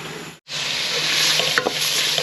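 Garlic fries in hot oil for Lao larb, a loud, close sizzle that cuts out briefly and then surges back, with stirring scrapes partway through.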